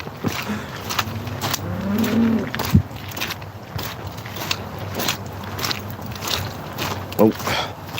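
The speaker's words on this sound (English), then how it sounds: "Being stared at by the cows." Cows in a muddy field give several low moos, one long call standing out near the middle, with footsteps squelching and a person talking now and then close by.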